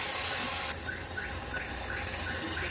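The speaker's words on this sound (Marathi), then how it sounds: "आता ह्याच्यामध्ये मी एक मोठा पेला भरून पाणी घालते" A large glass of water poured onto basmati rice already fried in ghee, a gushing pour that starts loud and then settles into a softer steady trickle, with faint squeaks over it.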